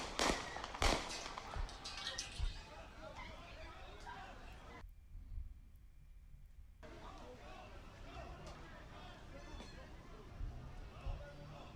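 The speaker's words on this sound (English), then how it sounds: "the actual gunfire shots from Rittenhouse" Gunshots fired by Rittenhouse in news footage, sharp distant cracks near the start over crowd babble and outdoor noise, followed by a brief cut to near silence before the scene resumes.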